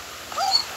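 A tamed dog in the Minecraft video game gives a single brief, soft whine lasting under a second, with no talk over it.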